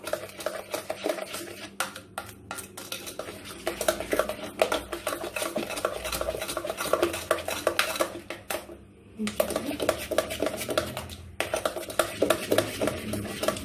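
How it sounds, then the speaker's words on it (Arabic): Batter of flour, water, sugar and yeast stirred briskly in a bowl for an eggless apple cake, a continuous clatter of utensil against the bowl with a short pause midway, close and fairly loud. "انا غنبقى هكا تنخلطو مزيان"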